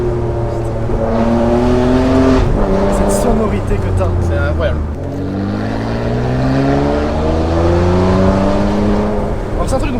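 Ferrari 599 GTB V12 engine pulling hard while driving, loud sweeping revs climbing through gears with a brief lift between, people talking over the cabin roar.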